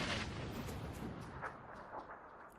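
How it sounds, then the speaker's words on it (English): Distant gunfire and grenade blasts in PUBG during a duos tournament match: faint, muffled repeated shots and booms under a steady rumble, with no talking. "Simple Death taking shots right next to him."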